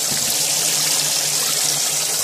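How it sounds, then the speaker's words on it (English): An aquarium pump circulates water through the filter box of a homemade bait tank, a steady close hiss and trickle of flowing water with no voices. "you see that it's pumping from the bottom of the filter box, pumping through the plumbing that we looked at"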